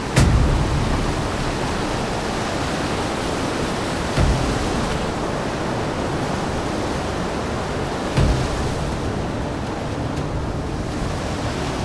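A steady, loud roar of a fast mountain river at a trekking crossing near Hamta Pass, close and continuous, with a couple of brief thumps along the way.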